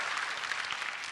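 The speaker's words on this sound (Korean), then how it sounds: "박수 한번 다시 한번 주십시오" A live audience at a hosted Korean stage event gives a short, even burst of applause, dense and continuous throughout.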